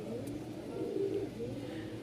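Sirazi Lahori pigeons at a pigeon market give a low, soft continuous cooing that runs steadily for about two seconds, fairly close, with faint background noise.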